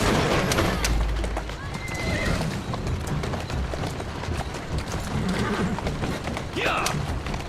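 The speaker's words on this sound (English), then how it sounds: "Who's a good horse?" A horse whinnies and neighs with hoof clip-clops in Assassin's Creed Syndicate, Victorian London game audio, heard under ongoing character speech and busy background noise, with a brief rising whinny near the end.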